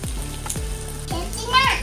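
Spice paste sizzling with grated coconut in oil for a sour prawn curry, steady frying hiss broken by a few repeated scraping stirs of a spatula across the pan, close and fairly loud.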